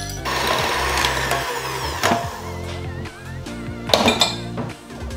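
Heavy cream with powdered sugar and vanilla extract being whipped by an electric mixer, a loud steady motor whir with clinks of beaters against the bowl throughout.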